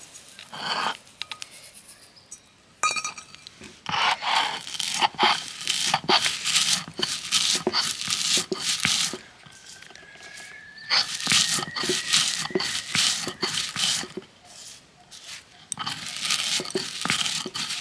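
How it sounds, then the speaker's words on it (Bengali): Rough scraping and grinding strokes of spices and ginger on a grinding stone, repeated in steady bursts with brief pauses, close by and fairly loud. "মশলাটা শিলে এখন আদা ভাঙা করে গুঁড়ো করে নেব।"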